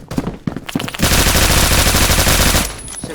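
Honey Badger rifle firing in full auto during a video game close-quarters fight, a dense rapid stream of shots lasting about two seconds, loud and close, preceded by a few separate single cracks.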